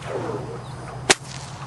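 A single sharp whip crack snaps loud and close, a brief bright burst standing alone against a quiet outdoor background.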